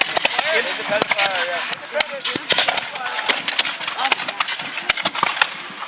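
Musket volleys crackle near and far at a Napoleonic battle reenactment at Fort George, with sharp shots in rapid succession as groups fire in turn, over crowd noise and shouting.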